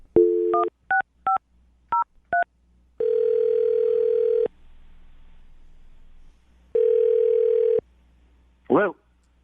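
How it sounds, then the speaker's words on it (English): A telephone dials a number for a radio call: a quick run of paired keypad tones, then two long steady ringback tones separated by a pause, ending in a brief warbling chirp. "I'm going to dial the phone number right now."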